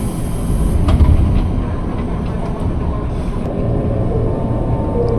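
KRL commuter line train pulling into Lenteng Agung station, a loud continuous interior rumble with steady rolling rattle and faint clatter, no talk over it.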